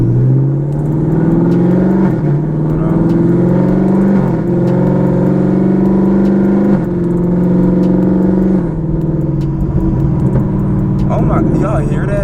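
A car engine at a dealership revs and rises in pitch several times in steady surges, loud and near, with a person talking over it.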